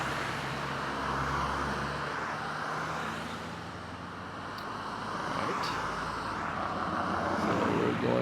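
A car passes at an intersection while riding an ebike, a broad traffic rumble that swells and fades, heard under steady wind noise.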